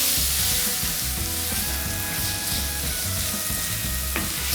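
Bacon and onions sizzle steadily in a pan, a dense continuous frying hiss with light stirring clatter throughout and no voices.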